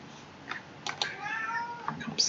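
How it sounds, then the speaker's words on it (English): A cat meows indoors in a moderately loud, drawn-out call with a couple of shorter mews around it, heard over faint room noise and light clicking. "comes the cat."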